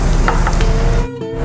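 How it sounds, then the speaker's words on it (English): Garlic and ginger stir-fry in two oils in a pan over medium-high heat, giving a loud, steady close sizzle with a few soft stirring scrapes. "add the 2 oils, garlic, and ginger to my pan, which is on medium-high heat"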